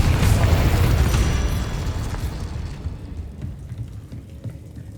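A Confringo blasting spell from Hogwarts Legacy erupts in a loud, rumbling explosion that starts at full force and slowly fades into crackling debris.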